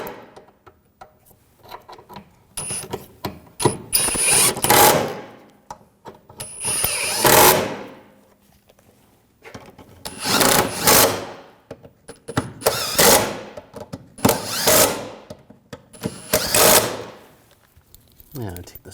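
Bolts on the rear suspension of a 2007-2013 BMW 328i are driven in with a power tool during a coil spring replacement, in several separate whirring bursts of a few seconds each, with short pauses between them.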